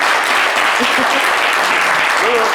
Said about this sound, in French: Applaudissez pour Otniel, s'il vous plaît.